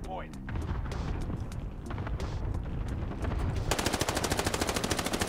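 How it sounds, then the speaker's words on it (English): M1 Garand rifle fire in Call of Duty Vanguard and Warzone: a string of sharp shots and game effects, ending in a rapid rhythmic burst of gunfire, with a voice talking over parts of it. "And here is the M1 Garand."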